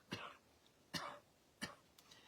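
Three sharp, close coughs come at roughly even intervals, with a softer fourth cough at the end, in an otherwise quiet room.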